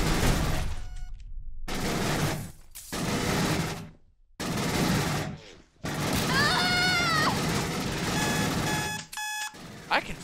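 Rapid bursts of automatic machine-gun fire in the game SS13 Colonial Marines, loud and chaotic, broken by short gaps and joined near the end by bright electronic beeping tones.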